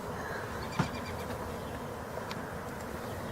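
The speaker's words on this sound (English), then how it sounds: "Because there's quite a lot of bees buzzing." Bees being added to an empty beehive create a steady, faint, continuous buzzing drone, with a soft thud or tap partway through and no voices.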